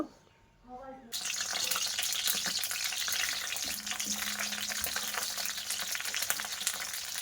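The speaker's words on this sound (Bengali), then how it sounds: "এবার আমি বেগুন পিস পিস করে কেটে রেখেছিলাম ওই বেগুনগুলো আমি দিয়ে দেব দিয়ে ভাজা করে নেব" Eggplant pieces drop into hot mustard oil in a wok and set off a sudden, loud, continuous sizzle that keeps crackling close up, after a few quiet spoken words.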